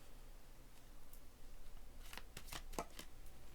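Tarot cards being shuffled in a quiet room: a run of quick papery riffles and flutters, close and fairly faint, with no talking.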